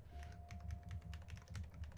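Quick, light keystrokes on a computer keyboard patter in an irregular rhythm, faint and close, with no voices over them.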